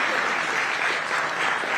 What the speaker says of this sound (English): can we have a round of applause as we welcome to the NDTV Profit Conclave